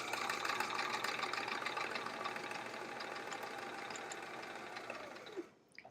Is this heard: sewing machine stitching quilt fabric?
yes